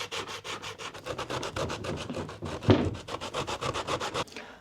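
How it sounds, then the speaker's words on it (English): Sandpaper rubs back and forth over plastic wheel arch extension tabs for a VW Crafter van, a steady run of close, brisk scratchy strokes with one sharper knock partway through, no talking. "go over them with a little bit of sandpaper just to make them smooth"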